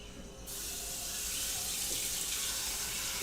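Water gushes steadily from a kitchen tap, switching on abruptly after a brief quiet moment and then running as a loud, continuous broadband rush.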